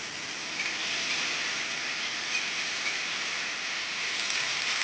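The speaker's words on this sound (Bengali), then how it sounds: "তেলের মধ্যে আলু এবং রাঙালুটা খুব ভালোভাবে নেড়ে ধীরে ভেজে নেবে" Potatoes and sweet potatoes frying slowly in hot oil, giving a dense, steady hiss of sizzling that stays even and close throughout with no voices.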